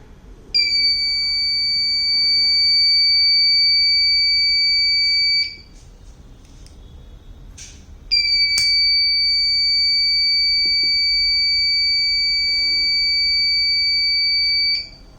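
A piercing electronic gas leak alarm buzzer sounds steadily for about five seconds, pauses briefly, then blares again for several more seconds.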